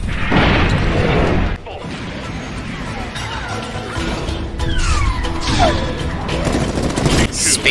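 Space grenades burst in a Gundam mobile suit battle, loud crashing booms and metallic impacts, one big blast at the start, then further explosive hits and mechanical clatter over a dense, roaring background.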